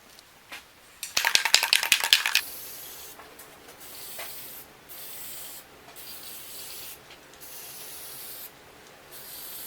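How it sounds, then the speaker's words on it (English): Lacquer sprayed onto the top of a live edge wooden table in a woodworking shop, a loud hissing burst of roughly a second with sputtering pulses, followed by quieter short hisses and rustling. "And we'll give it a coat of lacquer."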